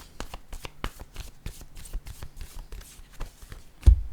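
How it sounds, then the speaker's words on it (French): Playing cards handled on a table, with a quick run of crisp card clicks and snaps and one firmer tap near the end as a card is set down, close and fairly clear. "Je vais déposer une carte ici."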